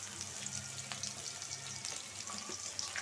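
Onion and green chili frying in a pan for a fish curry with pointed gourd, a dense, even sizzle with soft crackles, close and steady with no talking.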